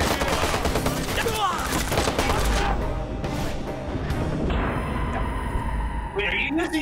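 Rapid submachine gun fire from a Mac 10 or Mac 11 in the Watch Dogs video game, dense bursts of shots over ongoing combat noise, with voices talking throughout.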